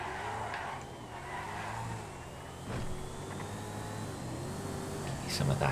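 A Voltic sports car drives in GTA FiveM, its steady electric-style drive hum and faint tire squeal running under continuous talk, with a slight surge near the end.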